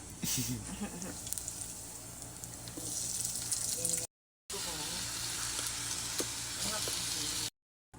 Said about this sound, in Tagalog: First step, isutay ang bawang at sibuyas.